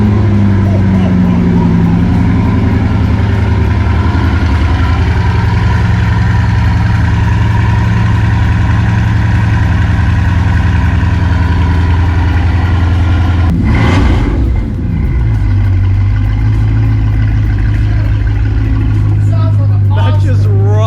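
A 1,500-horsepower twin-turbo Dodge Viper idles with a loud, deep, steady rumble close by, with a brief blip of revs partway through before it settles back to the same heavy idle.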